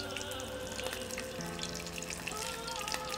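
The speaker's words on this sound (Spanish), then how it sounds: "Continuamos con nuestra fritura." Shrimp fritters sizzling in hot frying oil, a steady crackling hiss with small pops throughout, close and alone without talk.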